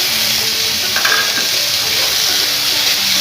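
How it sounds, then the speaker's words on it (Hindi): Onions sauté in a hot pan with red chili powder and spices for a chicken kachori filling, a loud, continuous close-up sizzle with faint stirring throughout. "प्याज को भी साथ सौते करेंगे।"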